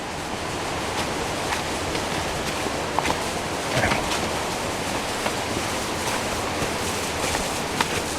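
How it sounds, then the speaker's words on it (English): A small waterfall spills beside a hiking trail in Shenandoah National Park in early fall, a steady broadband rush of falling water with a few soft footsteps and knocks over it. "Sounds like some water falling over here too."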